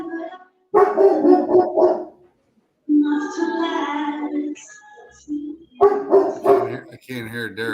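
Dogs bark in short harmonic bursts in a room, mixed in with people talking, the barks coming in clusters with a short pause between them.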